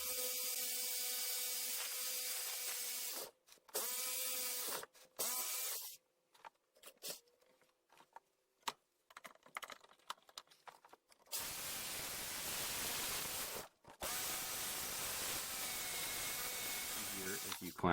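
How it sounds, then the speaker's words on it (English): A Dremel rotary tool grinds an intake port on a 1967 Camaro cylinder head, giving a loud high whine in several long runs broken by brief pauses and a quieter stretch of scraping. "we'll go ahead and use a Dremel on that"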